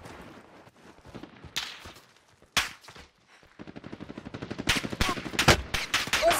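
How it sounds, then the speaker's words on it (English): Gunfire from the Call of Duty Warzone video game: scattered single shots, then sustained rapid automatic bursts that grow louder and denser toward the end, with sharp close reports. "Somebody else shooting at me?"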